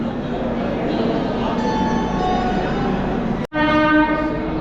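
A passenger train pulls away from a station with a steady rolling rumble, then a loud sustained horn blast sounds close by near the end.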